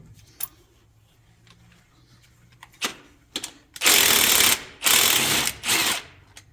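A ratchet on a wobble extension turning bolts on a big cam Cummins diesel engine, a few faint clicks and then three loud bursts of rapid ratcheting, close up.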